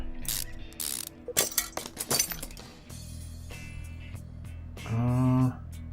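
Ratcheting and clanking part-handling effects from the Car Mechanic Simulator 2015 game as a power steering pump is fitted, with quick clicks and metallic clunks, then a short mechanical whir.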